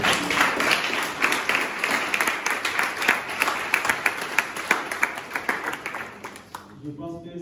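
Lively applause from an audience at a leadership talk, with crisp individual claps standing out over the crowd before the clapping dies away near the end.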